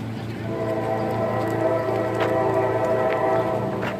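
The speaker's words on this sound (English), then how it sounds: "You hear the train coming through?" A train passing near Children's Lake in Boiling Springs, Pennsylvania, on a busy morning, heard as a steady, continuous low rumble with faint rattling that holds even throughout.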